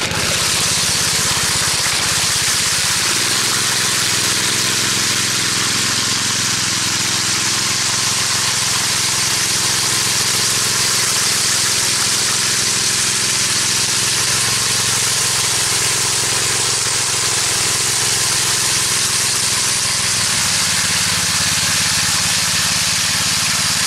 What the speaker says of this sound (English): I'm running the power trowel